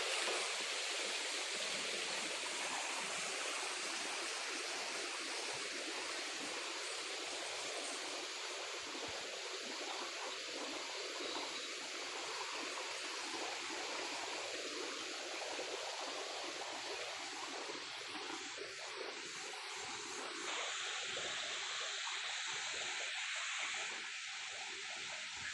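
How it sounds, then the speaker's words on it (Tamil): Water rushes steadily down a stream below the Pullaveli waterfall, a constant broadband roar with no pauses, close and full for the whole stretch and no voices over it. "தண்ணி ஓடிக்கிட்டு இருக்குது பாருங்கள்."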